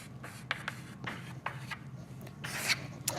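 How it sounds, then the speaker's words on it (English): A pen scratches across journal paper in short strokes and pauses, close and fairly quiet, with a soft rubbing texture between bursts and no voices. "So write down 3 things that went well today"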